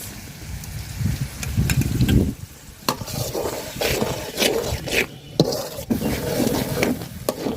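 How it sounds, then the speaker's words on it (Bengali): Spices with a little water, salt, turmeric and green chilies sautéed in a pan, cooked in a village setting: a steady close sizzle with scraping and stirring strokes throughout. "মশলাটা খুব সুন্দর করে আমি কষাই নিছি"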